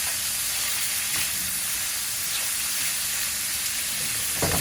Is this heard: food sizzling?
yes